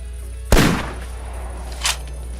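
A single loud rifle shot at a deer in the hunting game theHunter Classic cracks sharply and rolls off into a decaying echo, with a fainter secondary report a moment later.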